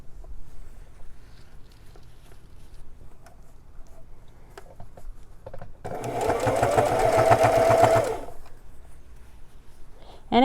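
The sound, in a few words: sewing machine hemming jeans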